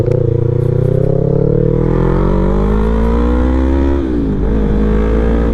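A motorcycle with a full exhaust and a richened fuel mixture idles smoothly at low revs, close and loud, its engine note rising gently and then dipping near the end.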